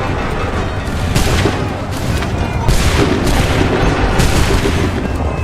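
Dense musket volleys crack and boom in Assassin's Creed 3, a rolling barrage of overlapping shots with heavy low rumble, loud and continuous throughout.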